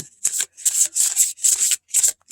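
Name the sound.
shuffling tarot cards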